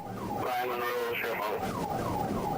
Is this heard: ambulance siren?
yes